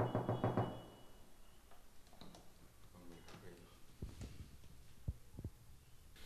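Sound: knocking on an apartment door

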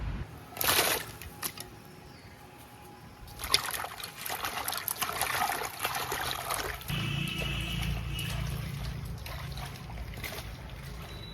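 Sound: washing sliced chalta (elephant apple) in water

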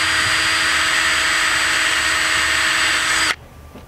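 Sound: drill boring holes with 1/8 inch bit

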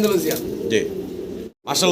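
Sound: pigeons cooing

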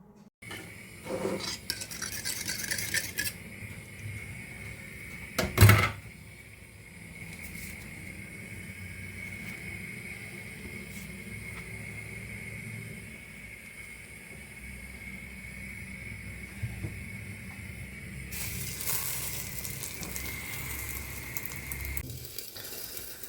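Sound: frying food in a pan

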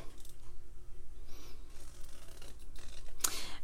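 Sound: big scissors fussy cutting paper

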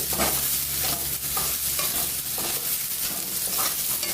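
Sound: sautéing spices with onion and tomato in a pan

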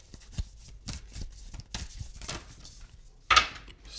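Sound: shuffling a large stack of tarot cards

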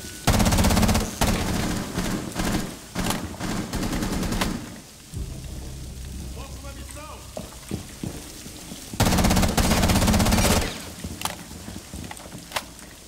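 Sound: gunfire from a gun in Rainbow Six Siege video game

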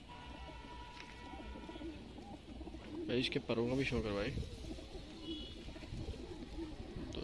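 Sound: high-flying breed pigeons cooing

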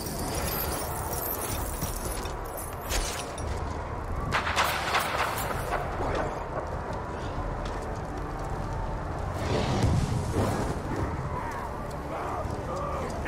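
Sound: explosions in video game Middle-earth: Shadow of War

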